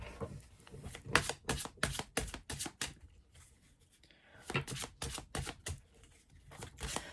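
Deck of tarot cards being shuffled by hand, a close series of rapid riffling bursts in two clusters separated by a brief pause, with no talk over it.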